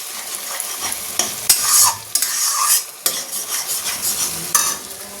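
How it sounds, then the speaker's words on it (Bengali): Spiced masala sizzles and is stirred in a pan with fried eggs and potatoes, a steady close frying hiss broken by bursts of scraping and stirring, with no voices. "এই যে ডিম আলু সব ভাজা হয়ে গেছে আর এখানে বসিয়ে দিয়েছি মশলা করতে"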